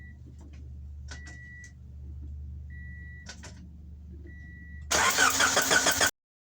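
A 1983–1987 Honda Prelude with dual carburetors, just reassembled, cranks and then catches: scattered clicks and a low mechanical hum lead into a loud, roaring start that cuts off abruptly.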